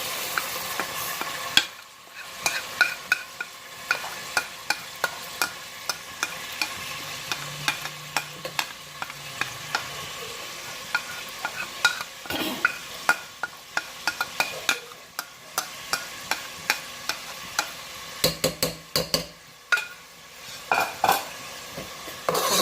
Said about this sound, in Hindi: अब वो जो चिकन है हमारा मैरिनेट किया हुआ वो मैं इसमें डाल दूँगी